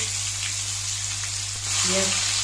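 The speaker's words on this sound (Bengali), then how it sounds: "এবার এর মধ্যে কুচানো পেঁয়াজটা দিয়ে দিচ্ছি।" Chopped onion hits hot oil in a pan while cooking a mustard boal fish curry. A steady, close sizzle continues throughout, swelling slightly toward the end.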